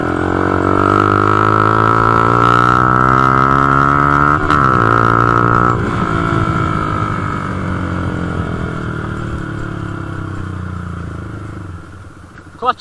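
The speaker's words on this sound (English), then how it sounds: "So, first gear, we're going to go from first to second" A Honda CB125F motorbike pulls away, its engine revving up strongly in first gear, dipping at the shift into second, then pulling on more steadily and fading slightly before a brief clatter at the end; loud and close.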